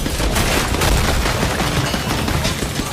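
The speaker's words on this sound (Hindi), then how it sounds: "अच्छा, फायर ट्रेनिंग चल रही थी भाई यहाँ पर, खत्म नहीं हुआ।" Sustained gunfire from a firing-range training session in the video game 007 First Light, a dense, continuous fusillade of overlapping shots that stays loud and steady throughout with no talking.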